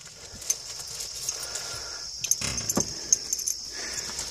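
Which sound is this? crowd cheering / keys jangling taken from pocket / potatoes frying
keys jangling taken from pocket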